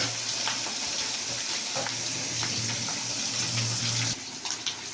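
Fish frying in hot oil in a home kitchen, a steady close sizzle and crackle that runs unbroken throughout with no voices.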